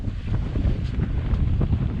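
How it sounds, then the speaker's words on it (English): Strong wind at sea off Turtle Bay buffets the microphone in loud, gusting rumbles, with the wash of waves underneath. "the wind started picking up"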